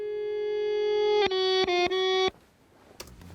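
A recorded melody played in reverse: sustained harmonic tones swell upward, then break into a few abrupt chopped notes before cutting off into near silence, with a faint click near the end.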